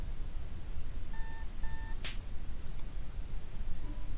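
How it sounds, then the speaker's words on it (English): A digital alarm clock in the video game DDLC: Relapse gives two quick electronic beeps, then a sharp slap lands and cuts it off, all over a steady background hum. "I begin my morning routine by slapping the shit out of my alarm clock."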